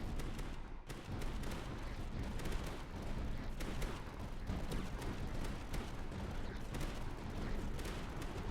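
Howitzers fire in the tower defense game Tower Dominion, a dense, continuous barrage of sharp cracks and thuds rattling over a rumbling battle bed, steady and busy throughout at a moderate distance.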